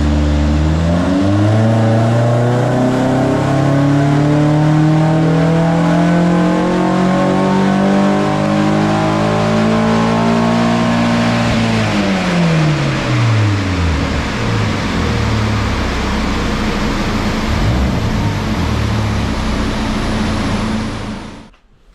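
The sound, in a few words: car engine revving on rolling road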